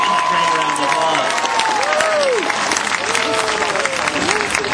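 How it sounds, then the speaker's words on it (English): Crowd applause and cheering at an Amur tiger show at a Six Flags park, loud and continuous under an announcer's amplified voice, with whistle-like tones sweeping through. "So let's give him a great round of applause."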